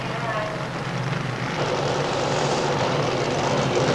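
Blown drag racing car at the 1990 Winternationals at Willowbank, Australia, roaring continuously off the line, a loud, dense engine rumble that swells slightly as it pulls away, with an announcer talking over it.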